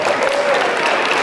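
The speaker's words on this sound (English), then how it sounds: "So give yourselves a round of applause." Festival audience at the 2nd Filipino Festival at the Malden YMCA breaks into steady, dense applause, a continuous wash of many hands clapping at close to moderate distance with no gaps.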